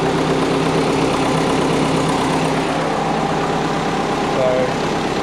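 A built EJ20 engine in a Subaru Forester idles steadily nearby with a constant, even drone and a faint rattle. Muffled voices can be heard under the engine.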